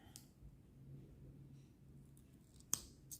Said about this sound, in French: Bah tiens, on va essayer le petit coupe-coupe.